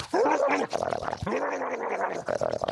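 A man imitates a dog fight with his own voice, producing continuous snarling, growling and yapping noises, loud and close, with rough gargled snarls and sharp bark-like yelps running nearly unbroken throughout.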